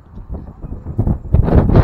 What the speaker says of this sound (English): I think it's gotten windy